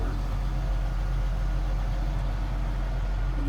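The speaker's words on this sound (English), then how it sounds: "you can hear the engine kind of bog down when you do it" A Volvo L120H wheel loader's diesel engine runs close by with a heavy, steady low rumble as the third valve is operated, the engine note sounding loaded and labored throughout.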